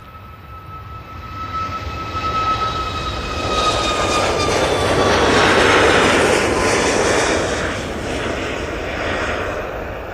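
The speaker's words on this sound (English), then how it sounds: "Ryanair 737 Max now on the roll" A Ryanair Boeing 737 Max jet on its takeoff roll at Manchester Airport, a loud sustained engine roar with a whining tone that swells to a peak midway and then eases slightly, with no talk.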